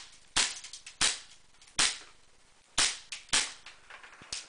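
Taurus PT99 CO2-powered airsoft pistol firing BBs indoors: six sharp, cracking pops at uneven intervals, loud and close, each followed by a brief decay, with no talking.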